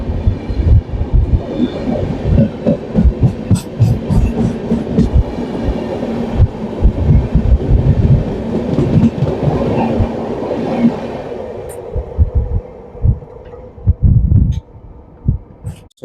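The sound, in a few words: Kashi Mahakal Superfast Express train passing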